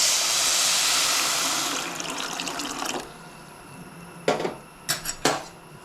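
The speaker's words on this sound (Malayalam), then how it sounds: "1 കപ്പ് വെള്ളമാണ് ഇതിൽ ഒഴിച്ചു കൊടുക്കുന്നത്." A cup of water pours onto sugar in a pan on the stove, a steady close splashing rush that tapers off, followed by a few metallic clinks of a utensil against the pan.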